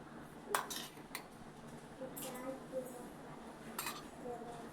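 Metal spoon clinking against a vessel while gram flour is added to buttermilk, a few faint sharp taps and scrapes spread across quiet kitchen ambience, with soft talking in the background.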